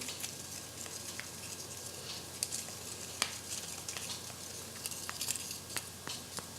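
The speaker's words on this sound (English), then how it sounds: "then I'm going to be stirring the thing" A toothpaste slime mixture being stirred gives soft, wet squishing and light tapping, quiet and close, with scattered small clicks and no talking.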